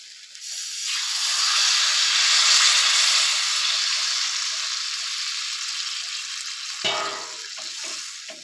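Water is poured into a pan of spiced potatoes and cauliflower sizzling in masala for a Bengali rohu fish curry, giving a sudden loud steady hiss that lasts several seconds, then a clatter near the end.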